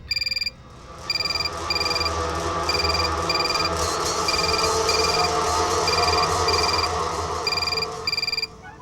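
A telephone rings in a scene from the Hindi TV police comedy Madam Sir. Loud, evenly spaced bursts of electronic ringing repeat about every second over a dense background music bed, with no speech.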